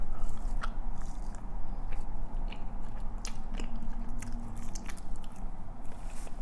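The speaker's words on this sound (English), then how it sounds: "Let me just eat this fry real quick." Close-up crunchy bites and chewing of a salty fry, eaten during a Nando's chicken wings meal, steady wet mastication with crisp crackles throughout, no talking.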